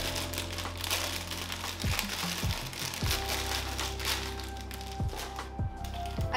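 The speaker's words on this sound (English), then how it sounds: "inside it's in this plastic bag. It was wrapped in this thing." A jewellery box is unwrapped from a crinkling plastic bag, with close, continuous rustling and crackling broken by several sharper crunches.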